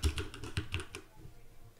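Quick run of about half a dozen keystrokes on a computer keyboard, close and fairly quiet, ending abruptly and leaving near silence.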